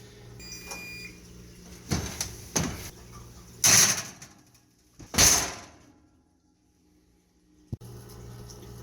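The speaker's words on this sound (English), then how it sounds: "Now we're going to put it in the oven for 20 to 25 minutes at 350 degrees." A brownie pan goes into a home oven set to 350 degrees, heard as a few soft knocks and clatters, two louder door bangs, then quiet and a single sharp click near the end.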